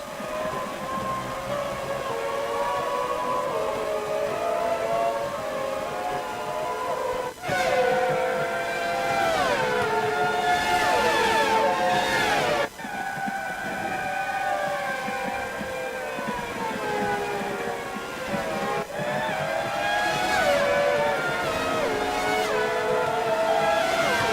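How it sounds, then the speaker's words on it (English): F1 racing car engines in the F1 2018 video game scream and whine in rising and falling pitch as cars pass, continuous and loud, with sharp gear-shift breaks. "These cars are so loud. Unbelievable. Screaming round."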